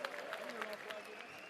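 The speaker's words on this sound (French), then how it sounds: "Fin de la reprise. Sous vos applaudissements, s'il vous plaît." Crowd applause at a boxing event marking the end of a round, a steady patter of clapping with a commentator talking over it throughout.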